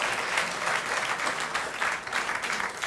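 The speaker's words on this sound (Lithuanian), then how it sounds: "Baisus plojimai." Steady, moderately loud audience applause in a television studio, a dense wash of many hands clapping continuously throughout with no talk.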